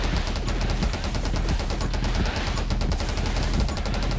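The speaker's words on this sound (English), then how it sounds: "you got two firing cannons" Two cannons fire rapidly in the video game 20 Minutes Till, a dense, continuous barrage of loud overlapping shots with no break.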